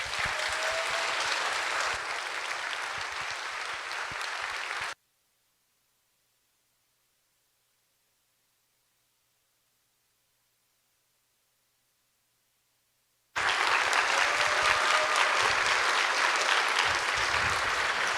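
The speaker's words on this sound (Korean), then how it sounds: "우리 그러면 기대하는 마음을 모아서 박수로 강사님을 모시도록 하겠습니다." Church congregation applauding to welcome a guest lecturer at a Sunday evening service, a dense steady clapping that stops abruptly, falls silent for several seconds, then resumes just as loud.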